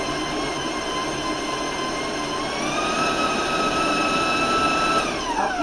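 An electric mixer creaming cake batter at a raised speed, a loud steady motor whir with a sustained high whine that shifts slightly in pitch.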